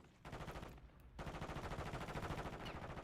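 Rapid gunfire crackles in an online shooter game, a dense rattling run of shots with a brief gap near the start, steady and fairly loud with no talking.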